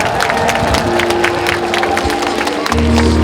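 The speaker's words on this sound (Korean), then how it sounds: "박수 부탁드립니다." A crowd at the 2026 East Asia City of Culture opening ceremony in Andong, South Korea applauds loudly and continuously, the clapping thick and steady, with a low tone rising beneath it near the end.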